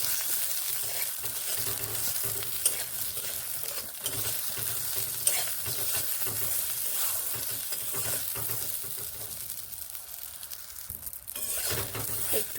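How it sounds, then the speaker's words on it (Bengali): Eggplant fries in a pan with a steady hiss and sizzle while a utensil stirs it, making soft repeated scraping and occasional light clinks against the pan throughout. "নেড়ে নিচ্ছি বেগুনগুলো"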